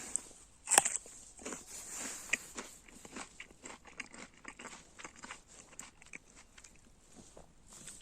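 A crisp bite into a crunchy winter pear, followed by several seconds of quiet chewing and crunching close to the mic.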